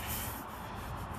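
Steady abrasive rubbing of 220 grit sandpaper on the fender and header panel of a 1979 Chevrolet Caprice, a close, continuous scratchy hiss with slight strokes, no voices.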